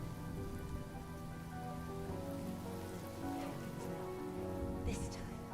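Steady rain falls in the video game Honkai Star Rail, an even hiss of drops pattering on surfaces throughout, with no voices over it.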